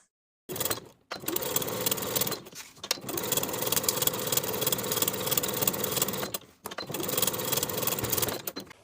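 A sewing machine bastes along the edges of a fabric weekender bag panel in three close bursts of rapid, steady whirring stitches, separated by short silent pauses.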